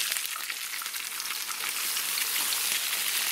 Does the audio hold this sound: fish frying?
yes